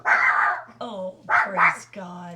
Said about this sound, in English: That was our dog barking at a delivery guy